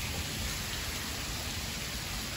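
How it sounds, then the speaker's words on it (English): Steady rain falls as a dense, even hiss throughout, a constant wash of drops with no gaps and no voices. "It's raining, but sexy."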